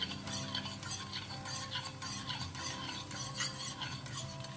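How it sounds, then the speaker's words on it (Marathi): Spoon stirring water into a cornflour mixture in a bowl, close and quiet, with repeated scraping swirls and light clinks of utensil against the dish in an irregular rhythm, no talking. "अच्छे से इसे मिक्स करें, लम्स नहीं होना चाहिए"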